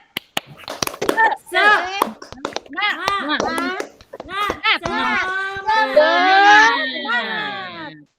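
A high-school class performs a tepuk semangat clapping routine in a classroom, with sharp unison claps mixed into loud, rhythmic group chanting by children's voices.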